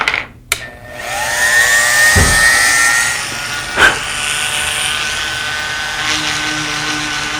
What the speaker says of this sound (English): I'm going to switch over to a finer polishing point for the final polish up on this